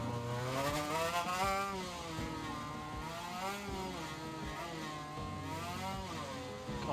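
Motorcycle engine from the RaceRoom racing game at the Assen TT Circuit, a steady high-revving whine with rising and falling pitch through gear changes, loud and continuous for the whole stretch.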